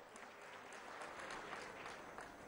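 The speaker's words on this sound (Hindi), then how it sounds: "जोरदार तालियों से आइए अभिनंदन करें माननीय मुख्यमंत्री श्री शिवराज सिंह चौहान जी का।" Faint, distant applause from a crowd welcoming Madhya Pradesh Chief Minister Shivraj Singh Chouhan at a state water conservation event, a soft, steady patter of many hands clapping.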